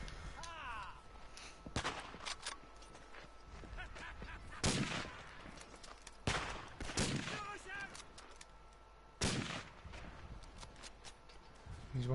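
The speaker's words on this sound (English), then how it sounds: "Getting hit by a sniper." Gunfire in the WW1 video game Verdun, including sniper shots: several sharp loud cracks spaced a few seconds apart over quieter scattered distant shooting, with a voice talking briefly in between.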